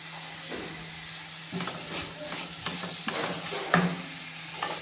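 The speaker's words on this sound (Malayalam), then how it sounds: "ഇതും കൂടി ഇട്ട ശേഷം നമുക്ക് നന്നായിട്ട് ഇളക്കിയെടുക്കാം അതിൻ്റെ കൂടെ നമുക്ക് കുറച്ച് കറിവേപ്പില ഇട്ട് കൊടുക്കാം" Squid frying in a pan with curry leaves, stirred with a utensil: moderate sizzling and hissing with intermittent scraping and clinks, fairly close.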